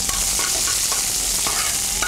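Curry leaves sizzle hard in hot oil where mustard seeds have just popped, for a Kerala coconut-milk fish curry. It is a loud, steady hiss broken by a few short crackles and spoon stirs, with no voices.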